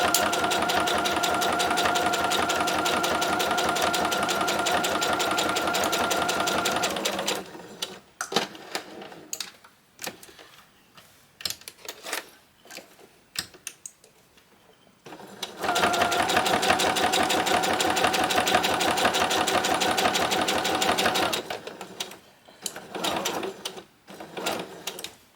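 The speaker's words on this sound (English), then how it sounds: "I just want to sew my top so that it's kind of consistent." A sewing machine stitches across the top edge of a fabric bag in two long, steady, close runs, with quieter handling noises and short bursts in the pause between them and no talk.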